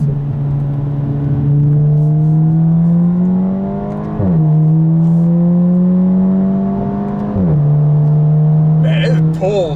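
A 2017 Audi A4 Quattro S Line engine revs up steadily in manual mode, dropping pitch sharply at each gear change, pulling hard through several gears from close inside the cabin.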